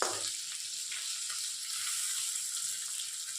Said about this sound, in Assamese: এয়া মোৰ মাছ সিজি গৈছে আৰু অলপ ৰঙচুৱা হ'বলৈ দিছোঁ।